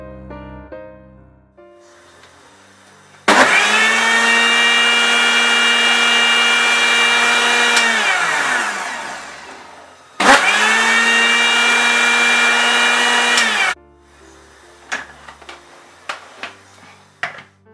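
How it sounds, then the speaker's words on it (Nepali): A mixer grinder grinds jhol achar, a dipping sauce for momo, in two loud sustained bursts with a high motor whine that winds down after each run. Faint clinks and handling knocks follow. "म यो अचारलाई चाहिँ फेरि मिक्सर ग्राइन्डरमा एकपल्ट पिस्न गइरहेको छु"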